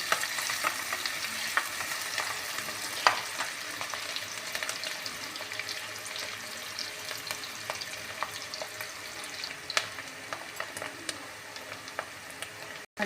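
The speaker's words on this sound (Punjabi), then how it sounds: "ਪਿਆਜ਼ਾਂ ਨੂੰ ਆਪਾਂ ਬਰਾਊਨ ਜਿਹਾ ਕਲਰ ਹੋਣ ਤੱਕ ਭੁੰਨ ਲਾਂਗੇ" Onions fry steadily in a pan, browning with a continuous close sizzle and occasional soft stirring clicks, with no voices.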